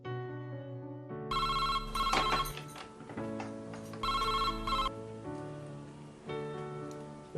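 A telephone rings in two long electronic bursts of bright repeated trilling, with quieter tonal sounds in between and no talking.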